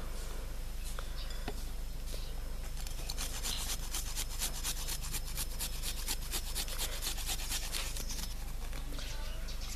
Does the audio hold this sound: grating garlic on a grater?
yes